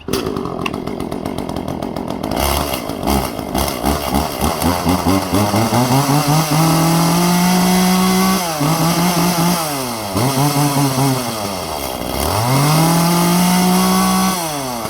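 A chainsaw runs loudly up close, in a comparison of a Greenworks 16-inch 60V brushless battery saw and an Echo CS400 gas saw, with engine pitch rising and falling in repeated revs and cuts that bog the motor down.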